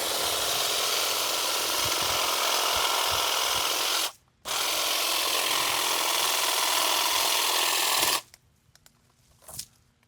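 HEINPRO cordless trimmer cutting a roughly half-inch apple tree branch: a steady, loud high-pitched whine runs about four seconds, breaks off briefly, then resumes for another four before stopping, leaving faint outdoor quiet with a small click.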